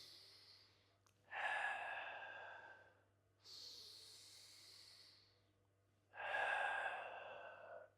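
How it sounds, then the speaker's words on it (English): Slow, rhythmic breathing during a relaxation exercise: three long, close, audible breaths, each a soft airy rush rising and fading, separated by quiet pauses over a low steady hum. "Breathe in, breathe out."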